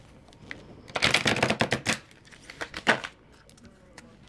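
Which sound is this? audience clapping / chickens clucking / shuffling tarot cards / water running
shuffling tarot cards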